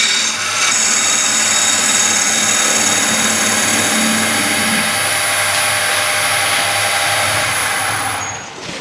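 A wood lathe spins as a swept-back bowl gouge takes an even cut across a bowl, giving a loud, steady broadband rushing whine with a high ringing tone that runs continuously and eases off at the very end.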